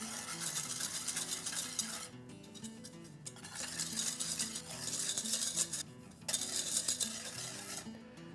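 A whisk scrapes and clinks briskly against a pan while dry powders are stirred together, in steady bursts of rapid metallic scratching broken by two brief pauses, close and fairly quiet with no talk.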